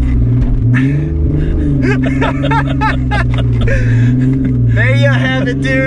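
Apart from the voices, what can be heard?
Kia SUV engine revving on throttle off-road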